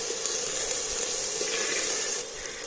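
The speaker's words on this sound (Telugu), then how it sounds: "అల్లం వెల్లుల్లి పేస్ట్ వేసి పచ్చివాసన పోయేంత వరకు ఆ ఆనియన్స్లో చక్కగా మగ్గి ఇమిరిపోయేంత వరకు మా అమ్మగారు అయితే చక్కగా వేయిస్తున్నారు" Onions frying with ginger garlic paste in a pan, a steady, close hiss and sizzle that continues evenly without pause.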